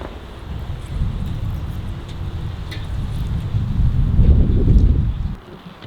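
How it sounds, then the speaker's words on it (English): Strong wind gusting across an evening campsite beside a Ford F-150 pickup with a camper extension, a loud, steady low roar with rustling that swells toward the end before easing off. "I'm glad that there's a big wind tonight because the bugs are just starting to come out"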